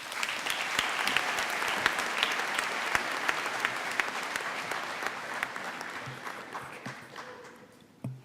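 Sustained applause from a college convocation audience greets a speaker. It is loud and steady, with dense clapping throughout, and it fades near the end.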